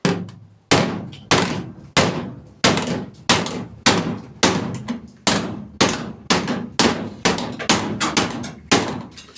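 A hammer strikes sheet metal held on a dolly while a patch panel for a limousine roof is hand formed, sounding as a steady run of about fourteen loud, ringing metallic blows at an even rhythm, close by with no talk.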